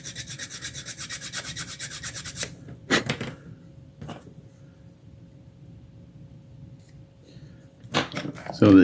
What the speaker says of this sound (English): but I use a sanding stick because it is slower and it takes off